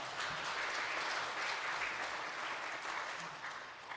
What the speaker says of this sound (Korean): 박수하시겠습니다.